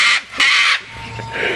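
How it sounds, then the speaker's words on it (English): A talking bird gives two loud, harsh, crow-like calls in quick succession, close by, followed by quieter rasping sounds. "Yeah, that bird scared me."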